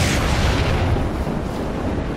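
A grenade blast in Marvel Heroes 2015 comes through as a loud, dense, rumbling explosion that fills the whole short moment with a low roar and no break.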